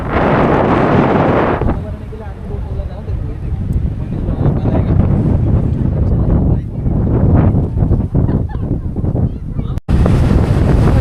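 Steady wind roars against the microphone with a broad wash of surf-like noise from the sea at a Konkan coastal village, while a voice talks intermittently throughout.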